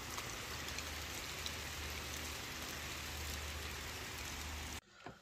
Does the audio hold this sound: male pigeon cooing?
no